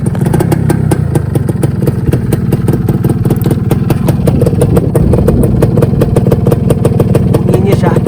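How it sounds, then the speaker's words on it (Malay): An older two-stroke motorcycle engine runs loud and close with a fast, rattling, buzzy pulse, revving slightly while a voice talks faintly underneath. "Saya test start dululah, bagi korang dengar dia punya bunyi."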